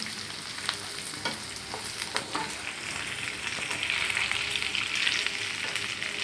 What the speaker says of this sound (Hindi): हरी मिर्ची है सब, हरा मसाला, अदरक लहसुन और प्याज सब फ्राई हो जाता है।